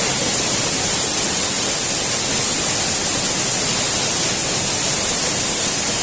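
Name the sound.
Mini Ella waterfall in Sri Lanka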